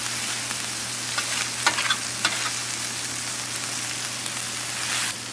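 Hash browns fry in bacon and sausage grease on a hot Blackstone griddle, giving a steady, close, full sizzle with scattered crackles over a low hum.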